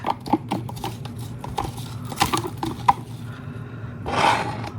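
Resin mix scraped from a mixing cup with a stick, giving a series of short, close scraping and tapping strokes that end in a longer, louder rasp.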